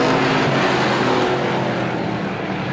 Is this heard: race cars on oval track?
yes